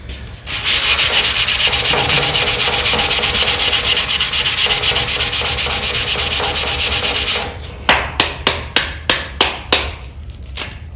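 Sandpaper scrubs hard against wood by hand in a loud, continuous rasp, then breaks into about nine short, separate strokes near the end.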